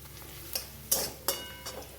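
Stirring chicken tehari in a frying pan gives a few sharp utensil clicks and scrapes against the pan, spaced irregularly over a faint sizzle.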